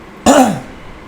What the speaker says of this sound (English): sorry, I have a little bit of a cough.